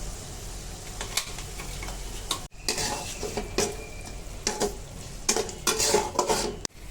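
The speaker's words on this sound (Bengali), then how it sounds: "এবার হচ্ছে বাটা মশলাগুলো ভালোভাবে ভেজে নেব" Ground spice paste with chili frying in a pot, with steady sizzle and repeated scraping and stirring, metal spoon clinks against the pot and brief pauses between strokes.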